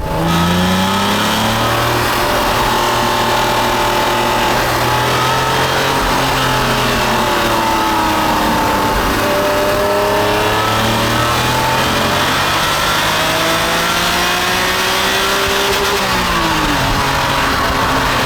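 A 1991 Honda NSX engine revs hard while driving, rising and falling through the gears with a loud, continuous mid-pitched howl heard close from inside the car.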